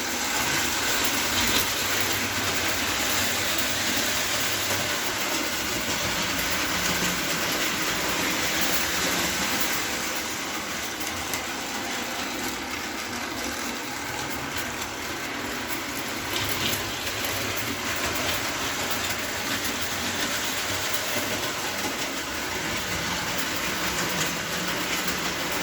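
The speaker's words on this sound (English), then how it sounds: "Runs actually very, very smooth." A prewar American Flyer O gauge 3198 toy train runs steadily on its track, with a continuous low rolling rumble and faint clicking wheels that stay even throughout.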